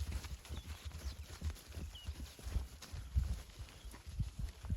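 Soft, irregular hoof clops of a mare walking nearby on the ground, faint and uneven, with quiet outdoor background.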